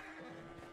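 A horse whinnies briefly in Red Dead Redemption 2, a short nervous neigh that is loud and close over about a second.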